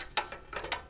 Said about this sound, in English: we're going to bolt them up like that.